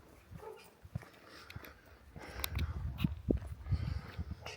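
A dog barks a few times at a distance outdoors in Winchestown, faint and scattered among footsteps and light rustling.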